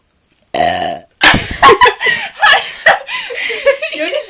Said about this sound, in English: Because you keep burping more than I do.